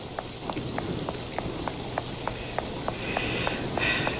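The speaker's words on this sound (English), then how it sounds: "this looks like It's only raining there" Steady video game rain hiss in Sherlock Holmes The Awakened at a cursed lighthouse, with a regular series of faint ticking drips about every third of a second throughout.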